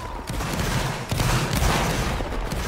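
Musket volleys ring out during a multiplayer battle in the Napoleonic Wars video game, a dense, continuous crackle of distant gunfire with a few sharper reports standing out over the whole stretch.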